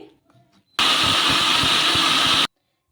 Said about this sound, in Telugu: ఈ ఆలును వచ్చేసి మెత్తగా అయ్యే వరకు మిక్సీ పట్టేసుకోవాలి అండి